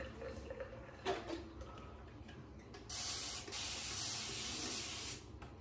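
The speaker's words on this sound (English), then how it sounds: "I think I'll use my spray bottle" Spray bottle misting water during soap making, a loud sustained hiss of about two seconds that breaks briefly and resumes, over faint background clicks and handling.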